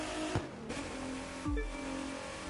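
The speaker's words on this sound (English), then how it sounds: "it sounds like a V6, but a cool V6" A V6 hypercar engine in the video game The Crew 2 revs briefly, with two quick rising whooshes of acceleration over a low steady hum, fairly faint.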